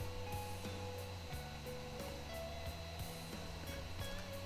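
Hair dryer blowing steadily over wet paint on a doll, a constant close whir with a low motor hum and no break throughout.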